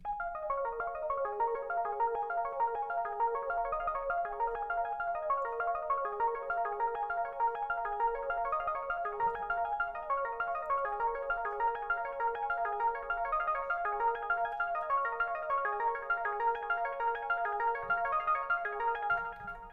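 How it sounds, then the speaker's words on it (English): A fast synth arpeggio plays continuously, its notes repeating in a dense rippling pattern while the tone is automated from soft and rounded toward sharper and brighter, with no voices. "We're making it go from really soft to really sharp."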